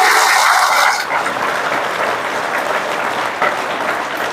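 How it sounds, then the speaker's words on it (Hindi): Children at a retreat applaud together, a loud burst of clapping that peaks in the first second, then settles into steady, slightly softer applause, with no voices over it. "ताली बजाओ अपने आप के लिए।"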